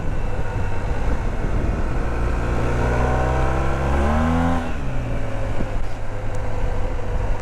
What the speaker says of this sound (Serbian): Slušajte taj motor.